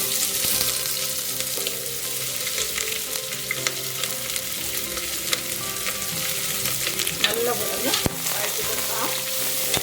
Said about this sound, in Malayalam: ഇനി നമുക്കിതിലേക്ക് സവാള അരിഞ്ഞു വെച്ചത് ചേർത്ത് കൊടുക്കാം